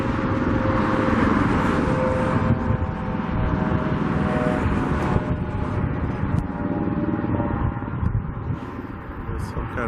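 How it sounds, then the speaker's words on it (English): Strong wind blows steadily across an open stadium construction site in Las Vegas during high wind warnings, a dense continuous roar close to the microphone with gusting swells and a faint steady hum underneath. "As you can see, it's still pretty windy out here."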